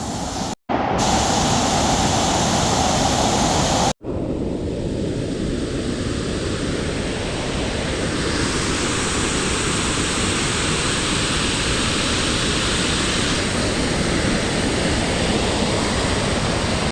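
A forest waterfall roars in heavy rain, a broad, constant wash of rushing water that fills the scene, loud and close, broken only by two brief dropouts near the start.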